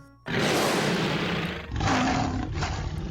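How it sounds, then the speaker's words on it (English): A lion roars very loudly in a long, rough, sustained roar that dips briefly and surges again. It is close and fills the whole moment. "Then he roared very loud."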